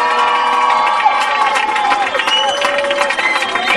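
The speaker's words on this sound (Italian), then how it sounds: "quando scatta il verde tutti, dico tutti, dovete applaudire o fischiare, fate un po' di casino" An audience at a Castenedolo La Corrida 2010 talent show cheers, whistles and claps on cue, a loud, dense crowd roar holding steady throughout with shouts and whistles rising above it.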